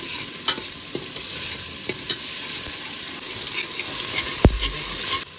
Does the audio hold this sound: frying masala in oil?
yes